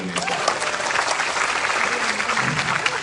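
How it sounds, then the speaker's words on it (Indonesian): A large audience at an Indonesian political stage event breaks into loud, continuous applause, dense clapping at a steady level throughout with a voice faintly present underneath. "Tepuk tangan untuk Indonesia."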